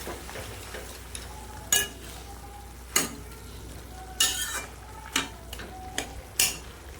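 Mustard paste stirred into a simmering pot of pumpkin greens and potatoes, giving a faint steady sizzle broken by several sharp spoon clinks and scrapes against the pan.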